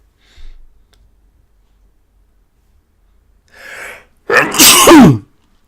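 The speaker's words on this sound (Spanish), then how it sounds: "Perdonad porque me parece que voy a estornudar." Close, loud sneeze from a person giving a Zoho CRM talk, preceded by a sharp intake of breath and a softer wheeze, then silence.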